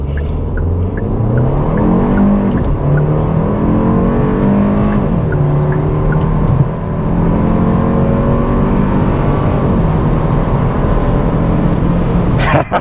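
A 2025 Kia K4 GT-Line Turbo accelerates hard on the road, its engine note climbing steadily through the gears in a loud, continuous drone heard from inside the car.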